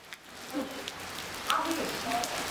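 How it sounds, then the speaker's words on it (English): Rain patters on surfaces in a town along a pilgrimage route, a soft, steady wash with scattered droplet taps and faint background voices. "The rain hit shortly after, and we made the most of this."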